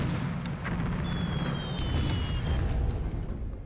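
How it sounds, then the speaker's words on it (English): Coastal defense fort guns duel with an invasion task force's ships in a Pacific naval wargame, a sustained loud roar of heavy gunfire and explosions with a faint whistling shell streak overhead. "Coastal defense guns again."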